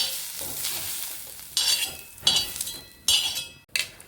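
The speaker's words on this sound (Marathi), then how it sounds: "तेल टाकून चांगला कांदा परतून घ्यायचा आपल्याला" Onion sautés in oil for a village-style Maharashtrian chicken rassa: a soft sizzle is broken by several sharp, close stirring scrapes and clinks of a utensil against the pan.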